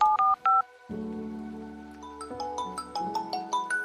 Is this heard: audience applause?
no